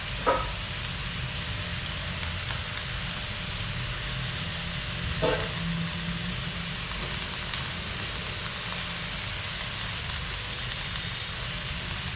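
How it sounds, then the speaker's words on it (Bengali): Pumpkin, potato and eggplant fry in oil as Malabar spinach goes into the pan, making a steady close sizzling hiss with a few sharp clicks and stirring scrapes throughout. "কুমড়ো, আলু, বেগুনটা তেলের মধ্যে হালকা করে নেড়ে নিয়ে মামনি এবার দিয়ে দিচ্ছে পুঁই শাকটা"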